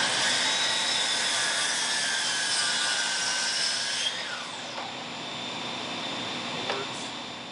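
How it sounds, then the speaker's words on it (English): Wooden boards cut to length on a temporary sawhorse and 2x4 setup, a long continuous whine of a power saw running and biting into the wood, then easing off with a couple of brief changes near the end. "just got this temporary setup for cutting my boards to length."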